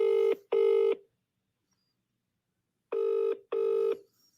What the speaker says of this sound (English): he won't even pick up the phone now